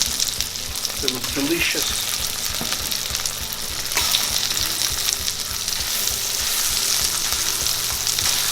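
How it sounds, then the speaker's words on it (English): Green tomato pieces sizzle and fry steadily in a pan, a continuous crackling hiss with a brief stir near the start and a short spoken comment over it. "I'm gonna add our tomatoes, our nice, beautiful 6 green pieces of tomatoes"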